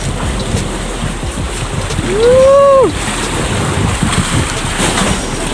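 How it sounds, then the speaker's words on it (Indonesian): Steady rushing water and wind noise fill the clip, with a brief rising-and-falling whistle-like tone near the middle. "Ini nanti kalian bisa dengar sendiri ombaknya tuh kayak apa"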